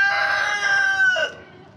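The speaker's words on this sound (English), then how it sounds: "here's a clip of what it was like for our chickens before the roof" Chickens in their coop with no roof: one loud, close rooster crow that stretches out and drops at the end, with faint clucking beneath it and no voices.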